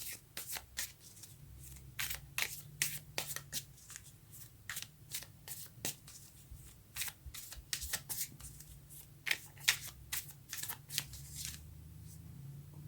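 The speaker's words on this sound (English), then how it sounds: "let's quickly take a clarifying card for that and see what we come up with" Tarot cards being shuffled by hand at close range: a long series of quick riffling, flapping bursts in uneven rhythm, with faint handling sounds between them and no speech.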